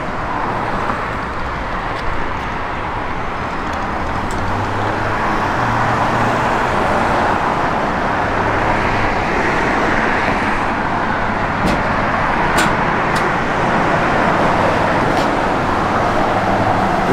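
A 1956 Chevrolet Bel Air with 4L80 overdrive transmission driving at speed, steady engine drone and road roar filling the cabin throughout, with faint ticks and no talking.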